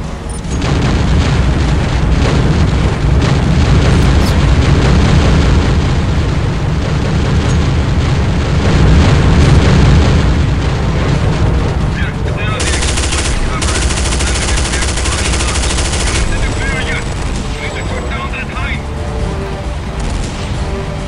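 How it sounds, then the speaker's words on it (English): Sustained, dense rapid fire from a mounted turret in Counter-Strike: Condition Zero Deleted Scenes, loud and continuous with booming impacts mixed in, running throughout without a break. "I'm gonna start using the turret only now."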